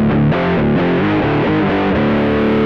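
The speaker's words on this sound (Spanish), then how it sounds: "Esto es un Modern Overdrive." Mooer GE100 multi-effects pedal on its modern overdrive setting, a distorted electric guitar playing a steady riff of sustained chords, loud and close with no talking.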